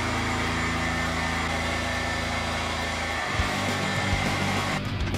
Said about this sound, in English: Warm it with a heat gun or an air dryer